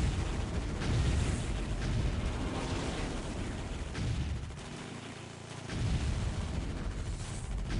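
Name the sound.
huge explosion from the Eldritch Spire in Dawn of War video game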